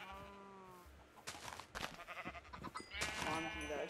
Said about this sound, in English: Cuddly sheep.